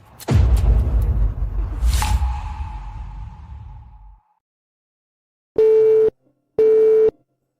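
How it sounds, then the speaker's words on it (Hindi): Two loud, steady electronic tones pulse on and off after a burst of rumbling noise, like a phone's busy signal after a call is cut off. "आंटी ने फोन काट दिया, गलती से दबा दिया"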